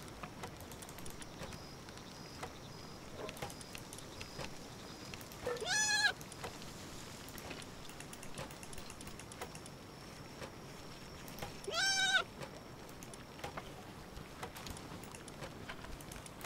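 A sheep bleats in the video game Palworld, two clear wavering bleats about six seconds apart over a quiet bed of game ambience and faint clicks.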